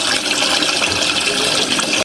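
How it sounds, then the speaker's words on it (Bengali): Water poured off soaking fish in a home kitchen, a close, continuous rushing gush of liquid that cuts off abruptly at the end. "মাছগুলো মোটামুটি ভিজে গেছে, তো পানিটা ফেলে দিচ্ছি।"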